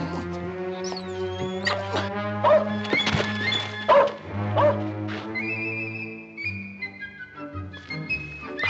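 A dog named Shorty whimpering and giving short barks and yips before a bath in a tub, close and mixed with thumps, under a soft music bed with tonal notes.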